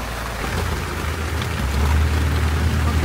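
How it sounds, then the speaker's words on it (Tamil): Rain falls steadily at a hanging bridge in Munnar, a dense, loud hiss of drops on the surfaces nearby, with a low rumble that swells partway through. No voices can be heard. "இங்கே ஹேங்கிங் பிரிட்ஜில் வந்து மழை பெய்யுது"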